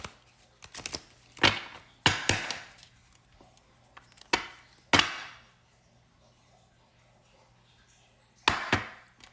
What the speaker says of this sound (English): We're going to shuffle these cards 5 times.